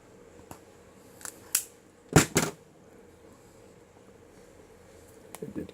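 Capri wire stripper jaws snipping a piece of wire: a few small clicks, then a pair of sharp close snaps from the cut, with quiet handling afterward.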